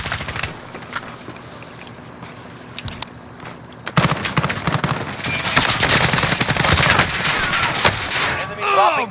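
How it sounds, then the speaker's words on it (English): Gunfire in Call of Duty: Modern Warfare: scattered shots at first, then from about four seconds a loud, dense stretch of rapid automatic fire and bursts that continues to the end. "I'm taking fire!"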